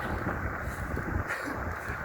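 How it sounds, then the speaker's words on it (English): Wind roaring against a rider on a 5000-watt e-bike moving at around 41 mph, a dense, loud buffeting rush that fills the whole stretch with no speech. "That gust of wind almost took me off sideways."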